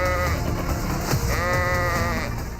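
Goats bleating at a livestock pen in Karachi, several wavering cries overlapping one another over a dense, noisy background.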